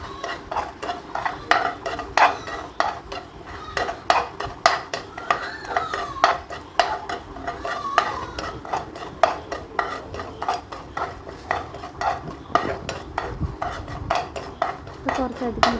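Bread pudding mixture stirred in a pan with a utensil, producing continuous rhythmic scraping and clinking against the metal for a long stretch, close and moderately loud.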